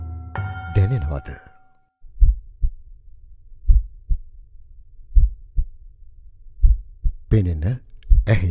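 A synthetic heartbeat effect in an election campaign ad thumps in slow, deep double beats, loud and alone in the middle, with brief spoken bits at the start and end.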